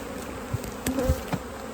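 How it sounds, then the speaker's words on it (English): Honey bees buzz in a steady, close drone during a honey harvest, with a few brief louder passes as individual bees fly near. "the bees are making it hard"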